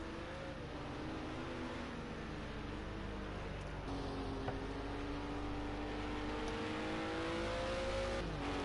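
A race car in a BTCC league racing game at Brands Hatch GP, its engine droning steadily and rising in pitch as it accelerates, with other engine tones layered underneath.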